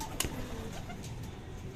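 Pigeons coo softly in a new loft where stock birds have been moved, a low murmuring close by with one sharper sound near the start and steady background noise.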